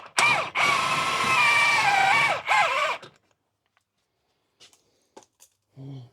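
A power impact gun drives in bolts during a Toyota RAV4 axle repair, giving a loud, close, sustained whirring burst of about two seconds, a brief second burst, then near silence with faint clicks.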